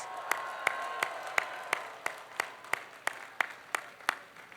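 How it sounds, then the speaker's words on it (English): Hand clapping at Northeastern University's Class of 2022 graduation ceremony. Crisp, evenly spaced claps ring out close by in a steady beat over a faint, quiet crowd background. "Give them a round of applause."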